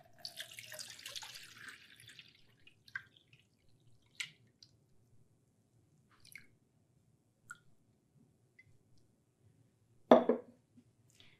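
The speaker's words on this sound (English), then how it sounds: "Now I'm going to pour about 1 liter of water into the eye." Water is poured into a human eye model, a splashing gush at first that trails off into scattered drips and small splashes, with one louder splash near the end and no talk.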